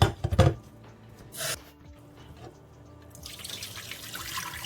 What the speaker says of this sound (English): I'm gonna rinse it off with some bottled water